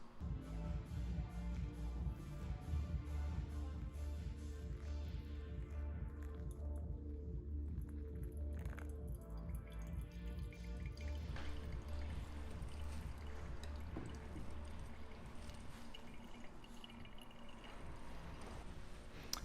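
Water poured from a kettle onto ground coffee in a V60 for the bloom, a steady, close liquid stream with a gurgling pulse that runs continuously without talk.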